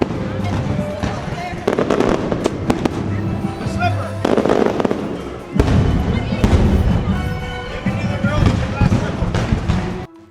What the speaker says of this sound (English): feature a special separate fireworks show called Disney's Not So Spooky Spectacular.